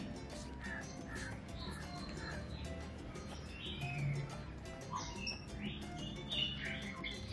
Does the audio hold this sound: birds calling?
yes